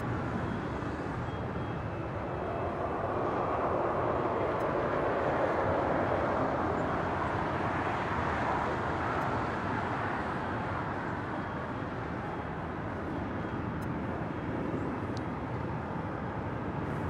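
A jet airliner departing from the south side of LAX, a broad steady roar that swells and holds for many seconds at moderate distance, with no voices.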